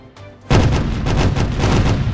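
After a quiet half second, ship cannons in the pirate game Caribbean Legend: Age of Pirates erupt in a loud, heavy barrage, with booming shots rolling in rapid succession to the end.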